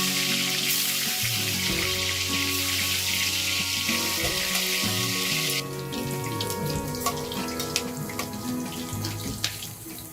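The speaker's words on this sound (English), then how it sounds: "marinate them with salt and turmeric, and fry in hot mustard oil till golden" Salt-and-turmeric marinated prawns frying in hot mustard oil in a village kitchen, a dense hissing sizzle throughout with crackling pops growing more scattered after the first half, close and loud, no talk.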